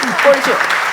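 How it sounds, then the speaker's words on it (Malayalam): Brief burst of audience clapping at a celebrity talk-show gathering, a dense crackling patter lasting under a second, mixed with voices. "ഭയങ്കര കയ്യടി ഭയങ്കര കയ്യടി"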